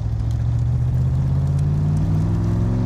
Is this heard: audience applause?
no